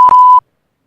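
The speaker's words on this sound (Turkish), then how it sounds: "Ben biplerim orayı" A single loud, steady electronic beep at one pitch lasts under half a second, then cuts to silence.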